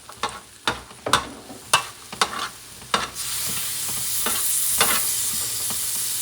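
Green beans go into a pan of frying wild boar rice picadillo: first a run of sharp, close knocks and scrapes of a utensil, then a bright, steady sizzle swells and holds, with no one speaking.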